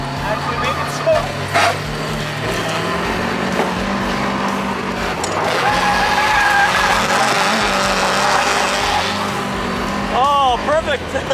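A drift car's tires squeal and screech through a long slide while the engine roars loudly up close, and a few voices can be heard briefly under the noise.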